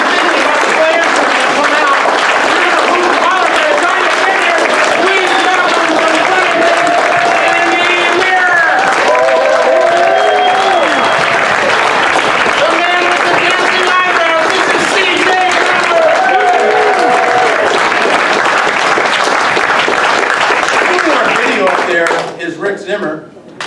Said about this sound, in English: Just a little bit of a nice little clap here. A little more of a golf clap.